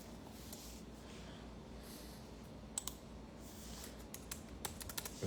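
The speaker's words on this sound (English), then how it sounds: "I just typed in where to send." Quiet computer keyboard typing against a faint steady room hum, with a few isolated clicks midway and a quicker cluster of keystrokes toward the end.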